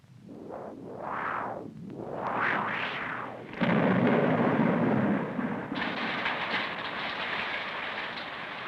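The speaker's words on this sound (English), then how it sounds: "the sun is making the wind and the rain." Howling wind gusts swell and fade, then a loud, dense roar of heavy rain and storm noise takes over with low rumbling like thunder, steady to the end with no voices.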